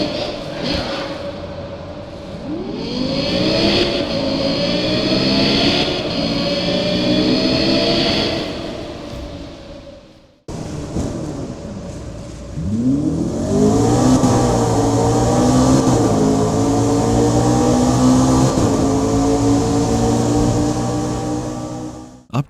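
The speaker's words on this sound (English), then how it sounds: "Sounds are also on par with some of the best, with the Lexus LFA and McLaren V8 cars having some of the most true-to-life sounds" Racing car engines in Need for Speed Rivals, including a Lexus LFA and McLaren V8, rev and accelerate loudly through rising gears in two long runs, the second starting after a brief cut, with no talking.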